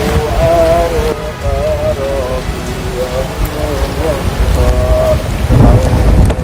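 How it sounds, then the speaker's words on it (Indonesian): Heavy rain pours steadily on a foggy hilltop, with low rumbles of thunder rolling underneath; a voice hums or sings faint wavering tones through much of it. "Op, cenah hujan heula."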